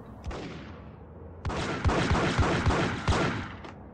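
Gunfire in Max Payne on Android: a sharp single shot, a pause, then a quick string of loud, punchy shots with echoing tails, close and clear with no talking.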